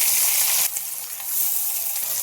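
Water spinach (kalmi shak) frying in a pan of hot oil with green chillies, onion and garlic, a steady close hiss of sizzling that is interrupted briefly by a stir.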